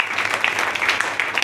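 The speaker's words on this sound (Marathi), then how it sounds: "हिच्यासाठी जोरदार टाळ्या होत्या सर" Loud applause from an audience: dense, continuous clapping that stays strong and even for about a second and a half, with no voices over it.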